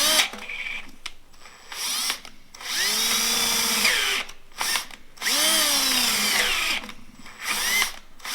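Power drill boring into the engine block of a Thornycroft Antar Mk3 during restoration, running in several long bursts with whining pitch shifts and short pauses between them, close and loud with no talk.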